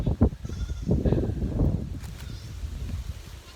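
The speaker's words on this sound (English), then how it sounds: "Goats are all over." Goats bleat outdoors in a windy spot, several calls overlapping near the start and then fading into softer scattered cries over a breezy background, with no talk.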